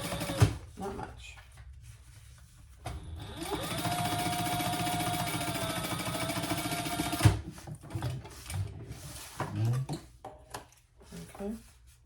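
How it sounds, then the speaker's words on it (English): A sewing machine top-stitches an eighth of an inch along the card slots of a crossbody bag, running in one steady whir for about four seconds, with fabric handling and clunks before and after. "we're going to top stitch on the card slots"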